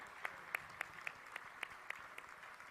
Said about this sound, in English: Let us give another big round of applause to our beloved True Mother.